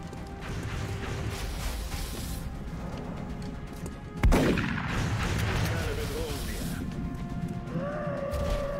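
A single loud shotgun blast in the XCOM Long War video game, a sharp crack with a decaying boom, set against steady game background ambience and mechanical noise.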